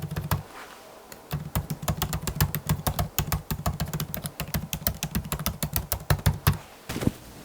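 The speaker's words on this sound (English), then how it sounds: "we're gonna see how the keyboard sounds" Someone types fast on the keyboard of a MacBook with the M4 chip, making a steady run of crisp, close key clicks with a short pause near the start and a brief stop near the end.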